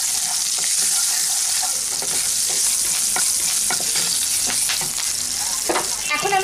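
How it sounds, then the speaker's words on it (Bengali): Turmeric, Kashmiri red chilli powder, black cumin and chillies fry in hot oil for a mustard hilsa curry, giving a steady, close sizzle broken by scraping stirs of a spoon in the pan. "তেলের মধ্যে দিয়ে দিলাম 1/4 চা চামচ হলুদ গুঁড়ো আর একটু কাশ্মীরি রেড চিলি পাউডার দিলাম"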